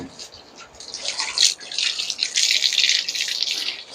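Water runs steadily from a tap during a rescue dog's bath, a continuous hiss with small splashes and drips, and a voice is faintly present underneath.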